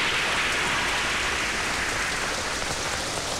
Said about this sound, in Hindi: तेज बारिश होने वाली है